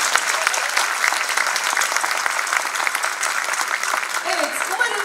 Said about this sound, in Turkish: biz de bir alkışlayabilir miyiz